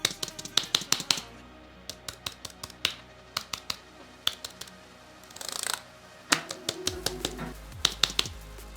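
Keys clacking on a Logitech MX Keys Mini keyboard, a quick, uneven run of crisp, close taps with a few short pauses and a denser burst near the middle.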